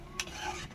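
Mango pieces being stirred in a hot pan, a brief burst of soft scraping and a light sizzle, with two short utensil knocks against the pan.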